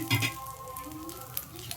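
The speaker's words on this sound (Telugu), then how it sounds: "ఇంకో కొంచెం లైట్గా కొంచెం వేగిందంటే మునగాకు కూడా రెడీ అయిపోద్ది" Moringa leaves sizzling and crackling steadily in a hot pan, with a brief stirring scrape near the start and a soft background hum.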